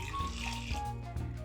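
Water poured from a measure into a cooking pot holding one and a half cups of buckwheat groats, a steady close splashing and filling sound running throughout with no talking.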